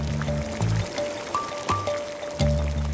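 Water running and splashing at the Pré-Saint-Didier thermal baths near Courmayeur, a soft trickling and gurgling with a few drips, overlaid by tonal music and faint background sound.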